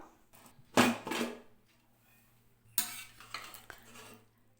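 Cooked rice in an opened pressure cooker is stirred and mashed, with two bursts of metal ladle scraping and clinking against the pot separated by quiet, faint and close.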